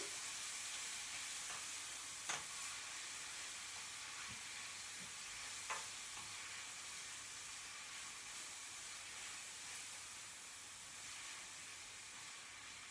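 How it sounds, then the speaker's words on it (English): Leeks sizzle quietly in a pan, a soft, continuous hiss with a couple of faint clicks and taps, no talking. "the leeks are frying nicely. I'm sure you can hear them all sizzling."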